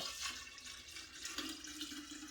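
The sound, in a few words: tea pouring into a jar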